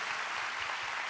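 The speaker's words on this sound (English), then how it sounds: "Will you give God a big clap right now?" A church congregation claps together in worship, a dense, steady wash of hands filling a short burst with no voices standing out.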